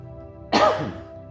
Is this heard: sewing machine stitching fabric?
no